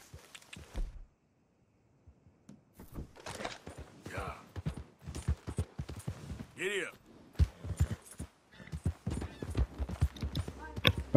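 Horse hooves and a horse-drawn carriage in Red Dead Redemption 2, steady clip-clop of hooves on a road with clattering wheels, fairly close, with a brief horse whinny and intermittent talking over the top.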